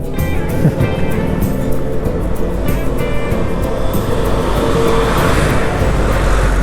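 Steady road noise from a traffic jam at a roadworks on a road in Lumajang, with idling and slowly moving engines forming a dense, continuous rumble close by, no talk heard.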